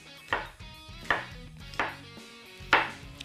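Knife chopping an onion on a board, four separate distinct cuts spaced roughly half a second to a second apart, close and clear with a quiet background.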